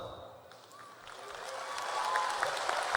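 Applause swelling gradually from a quiet start at a Lakeland High School graduation ceremony, rising into broad crowd clapping with a few sharper claps and faint voices near the end.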